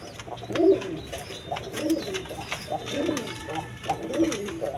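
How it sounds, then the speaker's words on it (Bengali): A pair of pigeons coo in repeated low, rolling phrases, about four calls spread evenly, close by and moderately loud, with faint background chatter and rustle. "দর্শকবৃন্দ এখানে এক পেয়ার কবুতর আছে"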